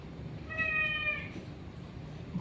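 A rescued cat lets out a single clear meow, close and moderately loud, over a quiet room hum.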